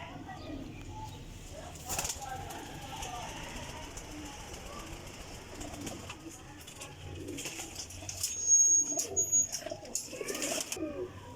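Teddy pigeons cooing softly in a loft, with occasional wing flaps and handling noises, while someone talks intermittently over the birds.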